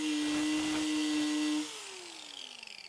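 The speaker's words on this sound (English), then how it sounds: "I need to use the angle grinder with a wire brush on it" An angle grinder fitted with a wire brush removes rust from metal, giving a loud, high, steady whine for about a second and a half, then winding down with a falling pitch as it spins to a stop.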